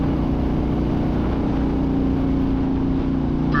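Harley-Davidson Road King motorcycle cruising on the road, a steady loud low engine drone with wind rush holding constant throughout, no voices.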